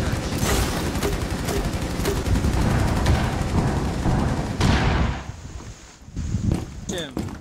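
Cluster charge detonating in Rainbow Six Siege: a dense, continuous rumble of rapid blasts and gunfire for several seconds, breaking off into a few scattered shots and debris clatter.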